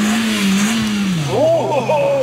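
A race car on a timed lap revs hard, then the engine note drops through a gear shift; loud and close, with a voice talking over it.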